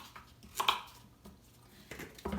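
A knife trims the ends off an onion on a cutting board, making a few quiet, separate chops and taps with pauses between them.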